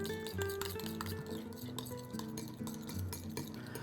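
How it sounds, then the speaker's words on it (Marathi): A whisk or spoon stirs yogurt with a quarter spoon of ground mustard in a mixing bowl, giving quick, steady clinking and scraping against the bowl, close and fairly soft, with a faint tonal hum underneath. "हे व्यवस्थित आता फेटून घेऊया"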